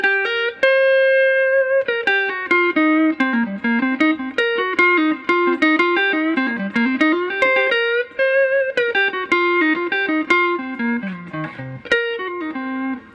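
A clean electric guitar with no overdrive plays a single-note melodic line with sliding and bending notes, bright and close, steady in level throughout.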